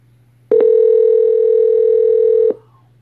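Steady telephone dial tone sounds alone for about two seconds, loud and close, then cuts off abruptly over a low background hum.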